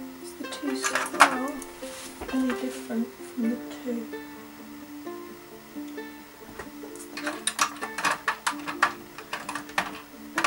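A sewing machine stitches fabric with contrast-colour thread while making an upcycled top, giving off bursts of rapid mechanical clicking and whirring. Steady talk and tonal background sound run underneath.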